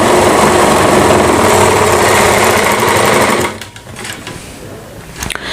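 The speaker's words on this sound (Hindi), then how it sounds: "इसी तरीके से हमें इस साइड भी हमें ऐसे फड़के के ऊपर रख के ऐसे सिलाई लगा देनी" A sewing machine runs steadily at a fast, even whir while stitching fabric for a kanchali blouse. It stops abruptly partway through, leaving a quiet stretch with a few small clicks.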